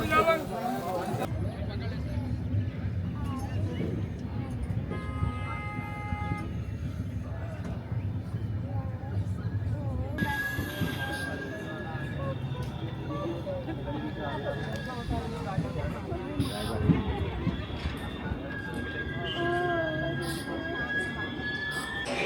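Crowded passenger train in India heard from a window seat while riding, with steady low rumble of the moving carriage, occasional squeals and clatter, and constant chatter of many passengers throughout.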